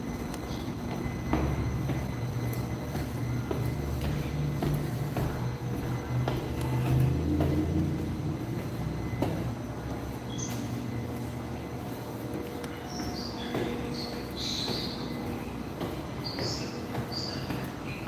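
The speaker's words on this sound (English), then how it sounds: "That's the train we just got off." A Hudson-Bergen Light Rail train rumbles and hums at a station, a steady mid-level drone with faint squeals and clanks, no voices.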